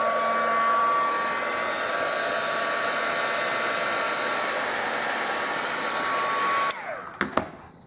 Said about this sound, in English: I hit it with the heat tool for like 5 seconds